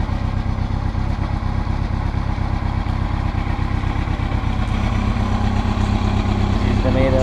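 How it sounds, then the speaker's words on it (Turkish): Motorcycle engines idle and rumble in a convoy gathering for a Republic Day 100th anniversary parade, a steady mid-loud throbbing drone with clattery texture and a slight rise near the end. "Motosiklet konvoyuna katılacağız."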